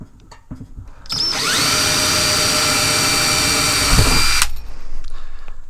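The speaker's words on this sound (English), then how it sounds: "So we're gonna drill right there" A power drill bores a hole through the steel roof of a shipping container, a loud, close, sustained grinding whine of about three seconds that cuts off abruptly, with clunks before and after.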